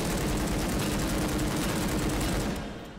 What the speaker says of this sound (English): when you fire off a whole magazine of the AK-47 or 74